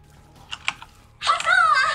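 A smartphone notification chime rings out close and clear, a bright warbling tone lasting under a second, following a couple of soft clicks in an otherwise quiet room.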